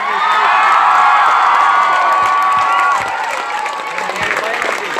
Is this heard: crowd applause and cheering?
yes